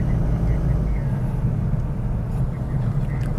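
A Toyota Corolla automatic with freshly replaced front and rear engine mounts drives along, giving a steady low engine and road rumble from inside the cabin with no talk.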